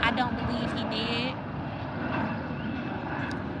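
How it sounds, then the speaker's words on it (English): A fixed-wing airplane passes overhead as a steady, broad engine rumble that stays fairly constant throughout, heard beneath ongoing background noise. "Y'all hear that airplane?"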